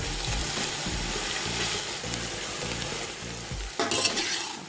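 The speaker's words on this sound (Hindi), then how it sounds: "अभी हमारी प्याज अच्छी तरह से लाल नहीं हुई। अभी इसको हम थोड़ा और भूनेंगे।" Chopped onions fry and sizzle steadily in a pan while a spoon stirs them in regular scraping strokes, with a louder clatter near the end; no voices.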